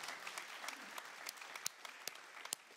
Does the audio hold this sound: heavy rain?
no